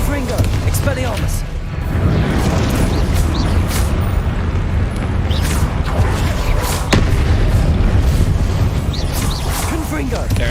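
Confringo blasting spells and other combat magic in Hogwarts Legacy, a continuous loud barrage of booming explosions and crashes, with voices calling out over the din.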